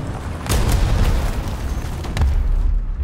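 A heavy artillery shell explodes nearby in War Thunder ground combat with a deep booming blast, and a second rumbling impact follows about two seconds later, each trailing off in a low roar.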